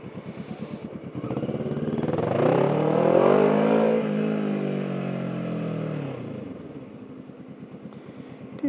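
A motorcycle ridden through traffic: engine note swells as it accelerates and holds steady, with a rhythmic idle pulse at the start and end, close and loud throughout.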